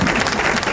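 Applause for a spa proprietor introduced on a radio program, a short steady patter of clapping that fills the whole moment at close range.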